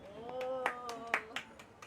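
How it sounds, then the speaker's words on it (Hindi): Students clap their hands in a classroom, a handful of separate claps at an uneven rhythm, fairly faint, under a sustained tonal voice. "चलो ताली बजाओ इसके लिए।"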